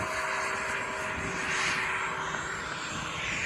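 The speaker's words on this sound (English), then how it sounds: "That looks like a nice plane." A radio-controlled model airplane flies overhead, giving a steady, fairly loud engine drone that holds throughout with a faint tonal whine and no talking.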